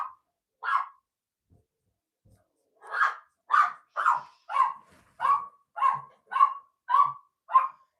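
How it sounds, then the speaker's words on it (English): A dog barks repeatedly indoors, likely at a mail carrier, with two early barks followed by a rapid, evenly spaced series of about nine loud, sharp barks after a short pause. "Sorry about my dog."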